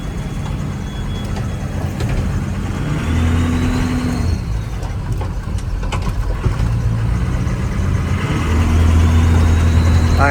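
1979 Ford F250 truck with a 6.0 Powerstroke diesel engine idling, a steady rumble up close with a couple of louder swells.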